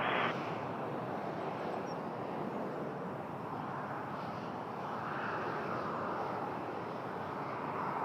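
An Air North airliner taxiing at Toronto Pearson airport gives a steady, loud broadband jet roar that holds unbroken throughout, with no talk over it.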